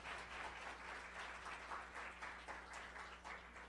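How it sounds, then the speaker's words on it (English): Applause breaks out from an audience at a women-in-politics event, a soft, steady patter of many hands clapping with a low background hum, faint and somewhat distant. "And let's give them a round of applause."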